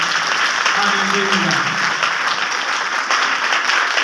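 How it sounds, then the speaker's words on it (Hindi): Congregation at a Hindi-language Christian sermon clapping in sustained, loud applause, with a voice briefly heard over it early on. "आपकी तालियां, आपके हाथ बताएंगे, जोरदार तालियां।"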